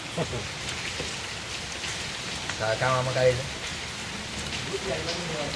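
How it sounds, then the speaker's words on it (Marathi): Steady rain patters on surfaces outdoors during a roadside meal stop on a pilgrimage walk toward Alandi, a constant wash of drops throughout while people talk nearby. "पाऊस वगैरे सगळं चालू आहे"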